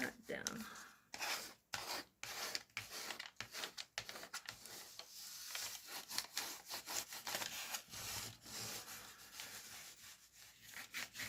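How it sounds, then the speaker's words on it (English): Rapid scratchy rubbing strokes on paper to emboss it down in a handmade junk journal, close and fairly quiet, in irregular bursts of back-and-forth friction. "find something to help you just emboss that down"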